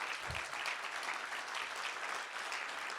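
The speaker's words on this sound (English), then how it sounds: "as we give you a big round of applause and a standing ovation" Audience applause and a standing ovation at a conference Hall of Fame induction, a continuous fairly faint wash of clapping heard from a distance, even and unbroken across the short stretch.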